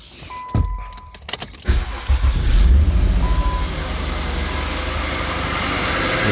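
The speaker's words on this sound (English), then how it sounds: "First, you crank the car." A 2000 Nissan Maxima with bad ignition coils and a misfire: keys rattle, the starter cranks briefly, then the engine catches and settles into a loud, steady idle close by.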